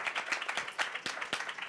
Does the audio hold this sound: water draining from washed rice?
no